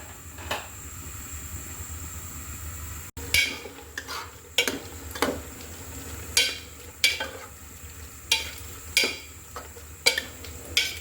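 Beef mince being stir-fried in a pot for a beef keema biryani, a spoon scraping and stirring in a steady rhythm of short, distinct strokes about once a second, close up over a low background hum.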